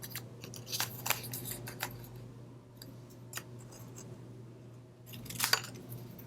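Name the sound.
scissors cutting scrap paper into little banner flags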